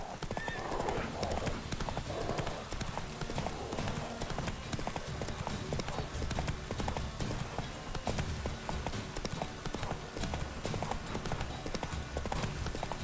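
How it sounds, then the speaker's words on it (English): Roach, a horse in The Witcher 3, gallops with rapid, steady hoofbeats and an occasional whinny, loud and close, with faint talk underneath. "Roach is a brave horse."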